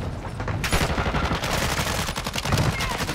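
Rapid video game gunfire crackles in dense, overlapping bursts, loud and close, with several shooters trading fire and a faint voice briefly underneath.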